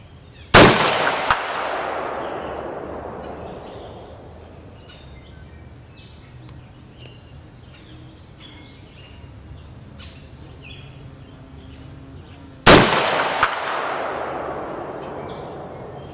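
Two loud rifle gunshots fired through a Warhog muzzle brake, sharp blasts about twelve seconds apart, each followed by a long rolling echo, with faint birds chirping in between.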